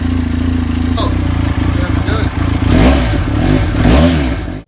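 A Benelli Leoncino motorcycle with its exhaust system in need of replacement revs up, the engine note climbing in a couple of strong swells, loud and close, with someone talking over it.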